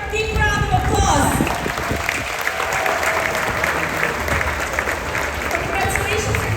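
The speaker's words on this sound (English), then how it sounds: "Please stand up, give her a big round of applause." Applause for a top cruiser at a top-tier Diamond Plus and Pinnacle guest event aboard the cruise ship Wonder of the Seas, a crowd clapping steadily and loudly for several seconds, indoors and close.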